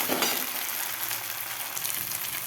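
Ginger sizzles steadily in hot oil in a pan as it is stirred, a bright continuous crackle with no voices.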